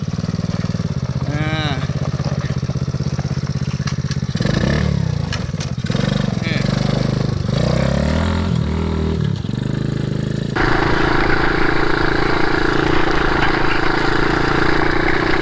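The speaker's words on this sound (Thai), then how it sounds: "ไหนถอยหลังหน่อยโชว์โชว์เกียร์ถอยหลังให้ดูหน่อย" Small app-ordered ATV engine running in reverse gear, a steady rumbling idle with clattery revs and shifts, heard up close over ongoing talk.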